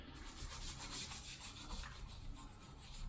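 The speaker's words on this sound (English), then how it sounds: "Top of the scope is pretty dirty, so it's gonna need a good scrubbing here for a second." Scrubbing the dirty, mildewed top of a scope: a continuous close, soft abrasive rubbing with a faint back-and-forth pulse, quiet and alone.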